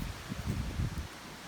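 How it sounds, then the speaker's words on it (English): Wind gusts through a yard outdoors as a low buffeting rumble and leafy rustle, moderately loud at first and easing off toward the end, with no voices. "It's very windy today here"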